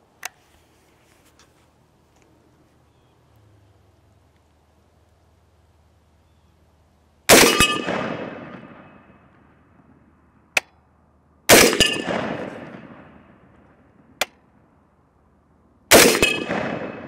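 Three loud, sharp rifle shots from a Bear Creek Arsenal .450 Bushmaster ring out several seconds apart, each trailing off in a decaying echo, with faint metallic clinks in between.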